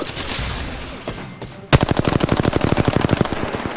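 Rapid automatic gunfire in the Apex Legends video game erupts suddenly after a quieter stretch, then keeps going as a loud, dense stream of evenly spaced shots that continue to the end.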